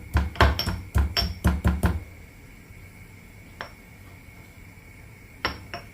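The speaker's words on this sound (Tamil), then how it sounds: "சரி, இப்போ இஞ்சி தட்டி வச்சாச்சு." Seven quick, heavy thuds of ginger being pounded in a rapid rhythm, then a pause broken by two isolated knocks.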